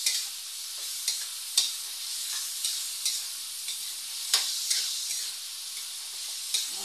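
Ingredients for pansit bihon sauté in a hot pan, giving a steady bright sizzle broken by regular clicks and scrapes of stirring, close and clear with no talking.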